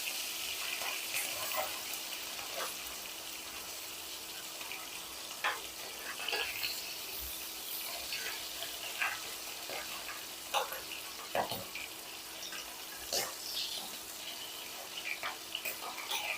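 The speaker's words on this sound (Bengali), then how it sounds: "মাছগুলো ভেজে নিব। মাছগুলো আমি উল্টে দিব।" Small tengra fish sizzle and spatter in hot oil in a pan on a home stove, a continuous bright crackle punctuated by sharper pops and a few scraping stirs, close and steady with no talk.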